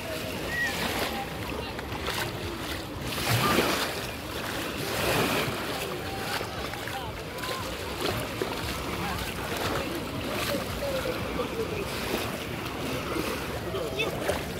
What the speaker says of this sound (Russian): Волнишко прям приятное, конечно.